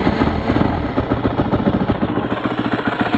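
A 2009 Honda CRF250X dirt bike engine running cold at idle, a rapid uneven pulsing putter close by, loud and alone.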